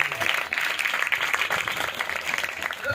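An audience claps together in a steady patter of applause lasting a few seconds, with no one speaking over it.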